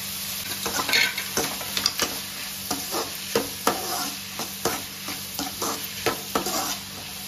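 Mutton liver frying in a pan with salt and turmeric, a steady close sizzle broken by repeated scraping stirs at an uneven rhythm, no voices.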